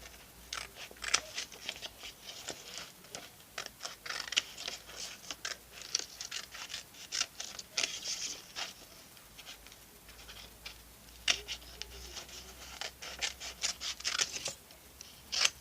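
Scissors snipping through paper while cutting out a bat mask, quick irregular crisp clicks and rustles in close succession, quiet and near with no talking.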